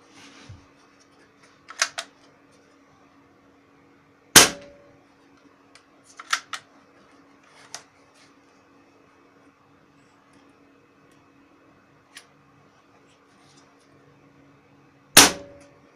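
Three sharp, loud shots from an IZh-60 air rifle with a fully compressed spring, each a crisp snap with clicks and faint mechanical handling noises between them and a low steady hum.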